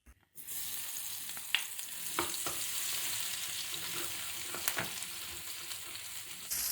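Cinnamon sticks, cloves, black peppercorns and garlic-ginger paste sizzle in hot ghee for a Hyderabadi egg curry, a steady close frying hiss with a few sharp crackles and spatters throughout, no talking.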